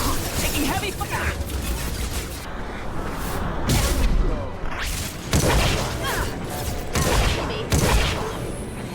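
Heavy gunfire and explosive impacts in a Mass Effect 2 firefight, loud and continuous with repeated sharp crashes and booms layered throughout, while people talk over the battle.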